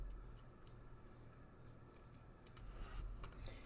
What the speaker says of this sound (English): I'm going to use this one with some scissors.